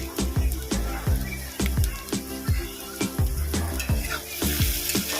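Onion and tomato frying in a pan, a steady sizzle punctuated by repeated clanks of a spatula scraping and stirring, close and fairly loud, no talking.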